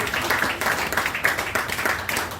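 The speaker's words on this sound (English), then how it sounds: "another resounding round of applause for her" An audience at the Lagos launch of the book "Oba Obinrin" claps in a loud, brisk round of applause. Distinct hand claps come through close and rhythmic and sound steady throughout, with no speech over them.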